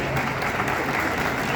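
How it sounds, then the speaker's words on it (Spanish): A short spell of audience applause fills a book presentation hall, a steady, muffled patter of many hands honouring a film director. "Un aplauso para el director que anda por ahí"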